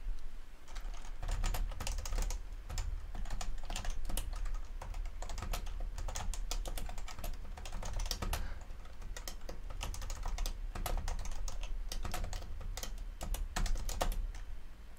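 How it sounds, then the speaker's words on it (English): Steady typing on a ZX Spectrum keyboard while entering a simple BASIC program, dense clicking keystrokes close up and continuous, with no talking. "First, I will type in a basic program for the classic Spectrum."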